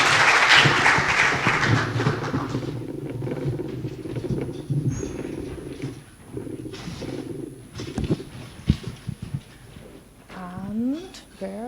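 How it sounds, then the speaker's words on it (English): Conference audience applauding as panelists are invited on stage, a burst of clapping in the opening seconds that fades out, followed by a speaker talking alone. "please join them with a round of applause"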